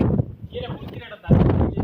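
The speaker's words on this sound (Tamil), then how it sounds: "காற்று செம்ம காட்டு." Strong gusts of wind buffet the microphone outdoors near Yanqul fort in Oman, rumbling in two heavy surges with a lull between, while someone talks over it.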